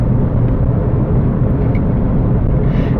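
Steady low road rumble inside a moving car, a constant dull roar with no talking.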